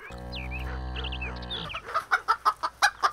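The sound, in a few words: cartoon hen clucking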